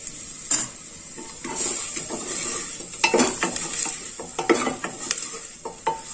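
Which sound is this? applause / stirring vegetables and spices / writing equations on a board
stirring vegetables and spices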